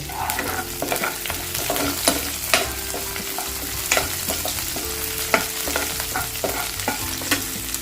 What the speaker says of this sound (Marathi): कढीपत्ता घेतलाय तो घालते